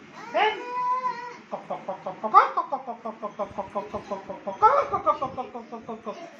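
A voice imitates a chicken with quick, rhythmic clucks in several close bursts, each opening with a higher squawk.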